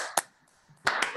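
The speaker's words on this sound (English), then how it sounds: "please unmute and give Torrence a big round of applause" A few people on a video call clap for Torrence: one sharp clap, a brief pause, then a short burst of several claps close to the microphone.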